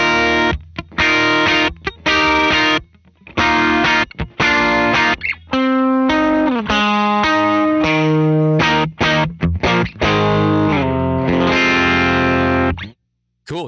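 Electric guitar played through a Warm Audio Pedal76 compressor pedal: close, steady melodic lines and chords with even sustain, one brief gap near the end, and no talking.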